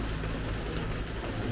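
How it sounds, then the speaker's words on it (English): Heavy rain pours down in the Tuscan countryside of Italy, a dense, continuous, close hiss of drops striking surfaces at a constant loudness throughout. "it is pouring"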